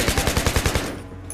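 Rapid machine gun fire in Battlefield 3, a loud burst of about nine evenly spaced shots over under a second, then fading into quieter background noise.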